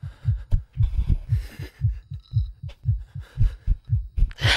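A fast, pounding heartbeat effect from the horror game Infliction throbs in a steady rhythm, close and heavy, with faint scattered game noises in the background.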